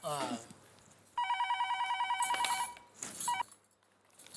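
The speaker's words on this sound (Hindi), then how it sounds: "फोन आया।" A telephone rings with a bright, rapid electronic trill, then starts a second ring that cuts off. Brief voices and rustling come before and after.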